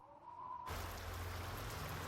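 Rain pours into the empty concrete shell of an abandoned, windowless office tower in Paris, a steady dense hiss that starts abruptly after a faint tonal hum and holds loud and even throughout.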